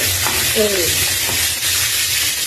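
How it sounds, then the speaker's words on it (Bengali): Fish frying in a pan of hot, bubbling oil, a steady close sizzle running throughout, with a short stretch of muffled speech partway through. "এদিকে আমি দিয়ে দিয়েছি মাছগুলো ভাজা হওয়ার জন্য। প্রচুর ফুটেছে, তেল ফুটেছে।"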